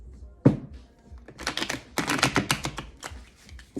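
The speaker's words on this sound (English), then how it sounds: "That's why I'm shuffling the deck now, the tarot" Tarot card deck being shuffled by hand, quick bursts of crisp riffling and flapping cards with a soft thump at the start, close and moderately loud.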